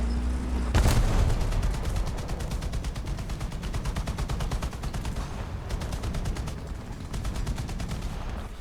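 In the War Thunder tank game, a heavy cannon shot booms loudly early on, followed by a long stretch of rapid, evenly spaced machine-gun fire under continuous engine rumble.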